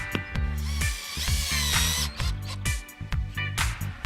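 A power drill bores holes for gate hinges, its whine rising and falling in pitch through short bursts as the trigger is worked, loud and close with no talk.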